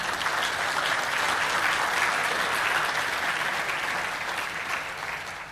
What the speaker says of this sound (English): All of you clapping